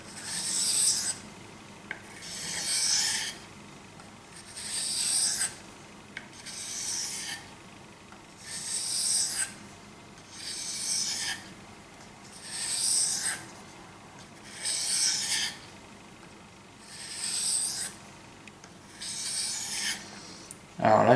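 A Ka-Bar KA4065 Dozier knife blade glides under its own weight across a Japanese water stone, making about nine soft, even rasping strokes at a steady rhythm, close up and quiet with no talking.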